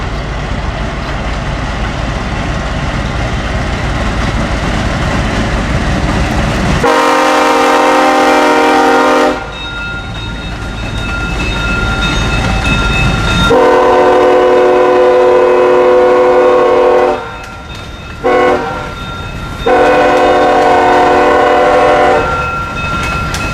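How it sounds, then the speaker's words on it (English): A CSX freight train led by an SD23T4 locomotive passes loudly through a quiet neighborhood south of Walbridge, sounding repeated long horn blasts with short breaks over a continuous rumble of rolling cars. "the train would go through a silent neighborhood"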